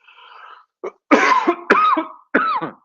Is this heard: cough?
yes